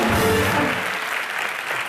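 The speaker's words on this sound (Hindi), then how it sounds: "हमारी हेमा जी के लिए एक बार जोरदार तालियां।" Studio audience of a comedy TV show bursts into loud, dense applause that continues steadily, fading a little after the first second.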